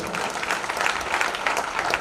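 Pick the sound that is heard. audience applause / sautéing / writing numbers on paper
audience applause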